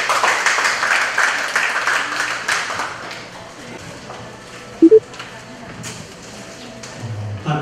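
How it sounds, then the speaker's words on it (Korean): Applause welcoming a speaker at a Korean admissions seminar for parents of medical students, moderate clapping that dies down after a few seconds, followed by scattered taps and thumps in a quieter room. "우리 홍신진 우리 전무님 박수로 환영해 주시기 바랍니다"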